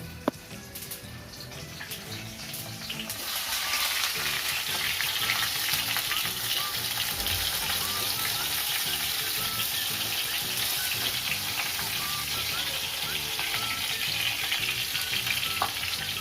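Eggplant pieces frying in hot oil with mustard seeds and cumin for a stuffed brinjal dish, a steady close sizzle that swells louder after a few seconds as the vegetables hit the pan and keeps crackling continuously.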